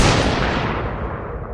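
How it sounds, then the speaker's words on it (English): A loud burst of gunfire booms and then fades into a long rolling echo, with no voices. "Then, gunfire."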